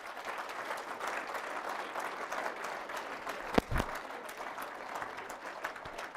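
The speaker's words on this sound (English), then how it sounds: "We need to give her another round of applause." An audience at a speaker event gives a round of applause, steady moderate clapping throughout with a couple of sharper thumps near the middle.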